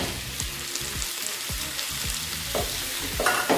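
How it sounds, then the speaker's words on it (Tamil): Tomatoes and onions sauté in oil for a fenugreek curry, a bubbling sizzle broken by quick, regular spoon strokes scraping the pan, close and fairly quiet. "தக்காளி நல்லா வதங்கிட்டோம்."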